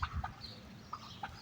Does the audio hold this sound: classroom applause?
no